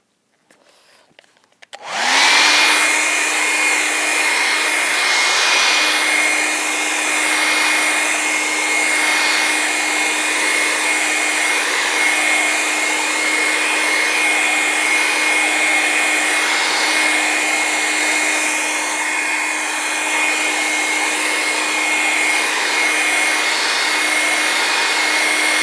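A hair dryer blows on a painting, switching on after a moment of quiet and then running as a steady, loud whooshing hum with a constant whine, close by and unbroken.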